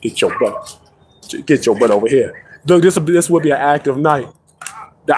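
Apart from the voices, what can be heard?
No everyday noises stand out.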